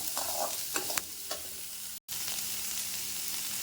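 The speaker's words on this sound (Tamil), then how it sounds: "நான் பெரிய வெங்காயம்லாம் கட் பண்ணி போட்டுருக்குறேன் அதையும் வதக்கிக்கலாம்" Sliced large onions are sautéed in oil in a pan for a curry leaf chutney, a continuous close sizzle with scraping stirs and a few sharper clicks, briefly cutting out for an instant midway, no talking.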